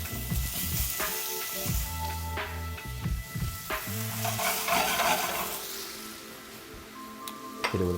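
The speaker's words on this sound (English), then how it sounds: "So, gonna get the pears and apples" Pears and apples sauteing in butter in a pan, with a steady sizzle and repeated scraping stirs and clinks of a utensil, close and continuous with no talk.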